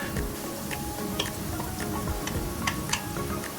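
Chopped onion and grated carrot sautéing in olive oil in a pan give a steady close sizzle, with occasional light clicks from a utensil against the pan.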